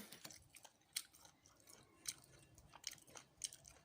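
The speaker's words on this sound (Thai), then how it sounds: "กินฝรั่ง" Close, quiet crunchy chewing of guava, with rhythmic bites and wet mastication sounds repeating steadily for a few seconds and no talking.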